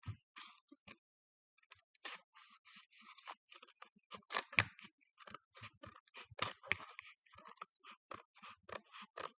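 Scissors or a blade cutting through thick cardboard for a handmade Valentine card, giving quiet, close crunching snips in irregular bursts with a few brief pauses, no voices.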